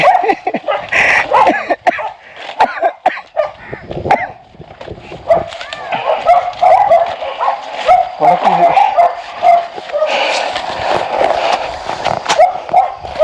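A dog barks and yips repeatedly in a pear orchard in Kodaikanal, loud and close, mixed with people talking over it.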